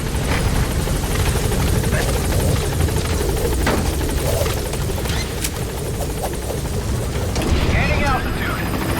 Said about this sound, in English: The role of the support chopper is to extract you and your targets from the area of operations.